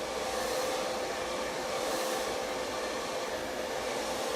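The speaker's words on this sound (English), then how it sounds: "then you come in with the dryer straight over the top" A hair dryer blows steadily at close range, a constant whooshing roar with a faint whine and no breaks.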